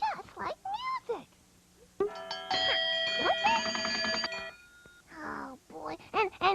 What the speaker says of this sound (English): bells are everywhere, and they sound just like music